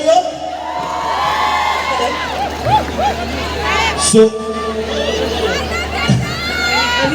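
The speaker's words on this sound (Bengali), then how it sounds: "হেমশ্রীর জন্য জোরে হাততালি হোক" A crowd at a mall film promotion in Siliguri cheers for a young actress making her Bengali film debut, with children shouting, whoops and a loud burst of cheering midway, while voices carry over the din.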